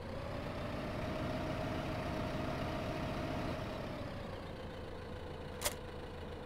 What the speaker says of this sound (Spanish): Nos vamos a llevar con este tractor mismo